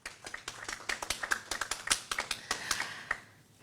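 A small conference audience gives a round of applause for a doctor at a medical ethics event, sparse individual claps close and distinct in a quick irregular patter over a few seconds, with no talking.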